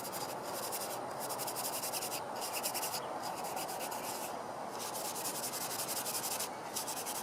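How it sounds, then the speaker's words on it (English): A planer's bottom is scraped clean of residual sawdust and junk with a steady run of rhythmic, gritty rubbing strokes, close but fairly quiet, with no voices. "first there's some residual junk on the bottom here that I need to clean off."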